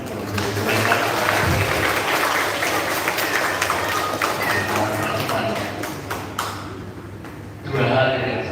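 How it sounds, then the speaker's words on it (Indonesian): Church congregation applauding at a Pentecost Eucharist mass, a dense, steady wash of clapping held for several seconds that briefly dips near the end and then swells again. "Kita beri tepuk tangan untuk mereka."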